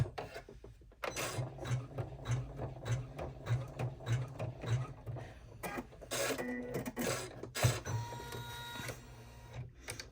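An embroidery machine stitching the placement line for a D-ring strap connector on an in-the-hoop mini wallet: a rapid, rhythmic mechanical tapping and whirring close by, with short pauses and shifts in pace.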